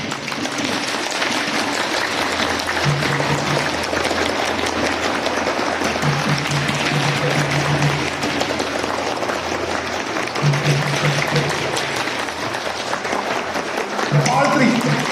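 A group warming up in an orchestra training session, patting their hands on their thighs in a steady shared rhythm, a dense loud patter like applause that runs throughout, with brief low tones surfacing now and then.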